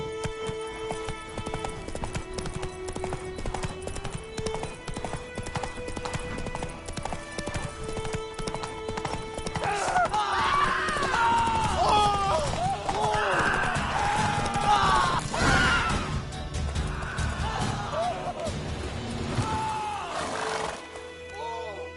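Geralt's horse Roach gallops in The Witcher 3 game with rapid, rhythmic hoofbeats that build and stay loud over a swelling orchestral score, with a brief call to the horse and the game's ambient sound.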